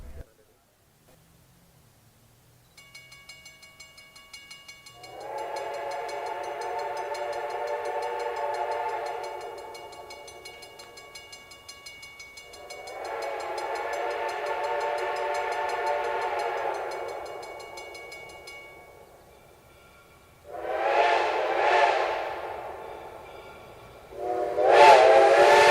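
Two steam locomotives, 2102 and 425, run as a doubleheader through a railroad crossing on a heritage rail event. Long whistle blasts sound twice and then two louder, sharper blasts come at the end, over a low rumble of the train.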